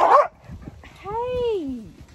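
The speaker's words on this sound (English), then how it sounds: "Too much energy with these dogs." Dogs barking outdoors: a short loud bark, then a drawn-out whining yip that slides downward, both close by.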